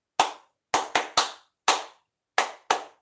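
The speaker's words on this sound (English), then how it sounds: "that's just 10 claps" Seven close, dry hand claps in an uneven rhythm, some in quick pairs and others spaced apart, each crisp and alone against silence.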